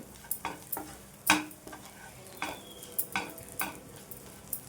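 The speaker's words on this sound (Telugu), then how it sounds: "ఈ విధంగా అయితే మొత్తం కలిపేసుకోవాలి" Chopped onions and chili powder being stirred together for onion chutney, a series of soft scraping, clicking mixing strokes against a bowl, close and fairly quiet with no talking.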